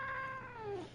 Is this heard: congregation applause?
no